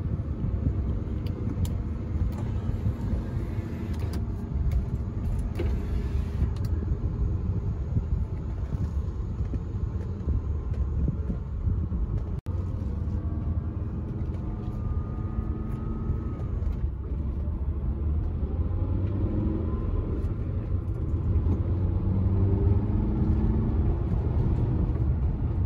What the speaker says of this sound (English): Include a clip as well of the car at freeway speed.